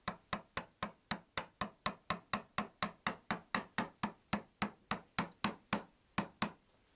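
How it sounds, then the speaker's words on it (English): Chisel struck with a mallet and driven down into the end grain of wood for a mid-century coffee table, a steady run of about twenty sharp, evenly spaced knocks, close and loud with no talk. "It's always kind of scary to be chiseling down into end grain"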